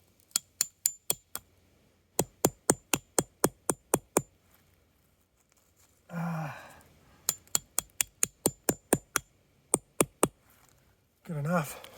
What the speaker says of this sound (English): And then we're going to hammer that in.